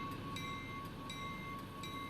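A train rolling past in American Truck Simulator's Wyoming map: a faint, steady rumble with regular clicking wheel beats repeating every half second or so, no talk.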